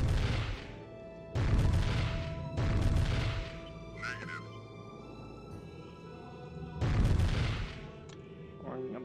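In Warhammer 40k: Chaos Gate, heavy gunfire rolls out in four loud booming bursts, separated by quieter stretches with a brief mechanical chirp.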